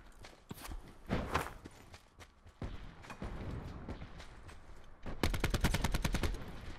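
Gunfire in Black Ops 4 Blackout: scattered single shots, then a rapid automatic burst near the end, loud and close with footsteps and game ambience between.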